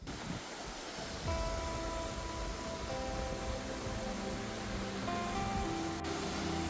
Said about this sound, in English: like obviously this waterfall here